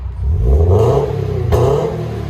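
Loud, close revving from a 2020 Subaru BRZ 2.0L fitted with a PERRIN cat-back dual exhaust: a raspy rise in pitch, a sharp crack mid-rev, then a throbbing idle that keeps going.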